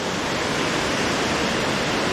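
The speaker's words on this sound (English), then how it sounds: "Very nice waterfall." Cathey's Creek Falls roars as a steady, dense wash of falling water, loud and close and unbroken throughout, with no voices.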